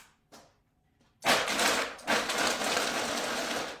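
A kitchen blender starts up on low speed, churning a cream sauce of roasted garlic and Tokyo turnips; after two faint knocks, a loud steady whir kicks in and holds, surging once shortly after starting.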